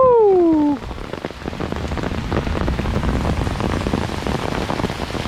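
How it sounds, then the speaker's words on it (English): A short, loud falling vocal whoop opens, then rain patters down steadily and densely for several seconds. "The rain is actually letting up a little bit."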